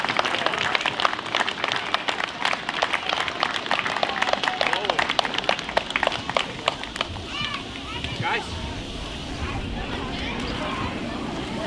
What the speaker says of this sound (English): let's have a round of applause for the 8-year-old All-Stars